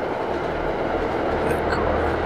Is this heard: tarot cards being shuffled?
no